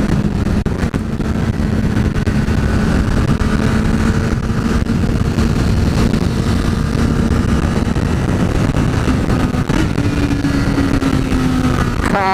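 A 2014 Honda CBR 1000 RR Fireblade on a test ride gives a loud, unbroken engine drone close to the microphone, holding a steady pitch before rising sharply at the very end, with no voices.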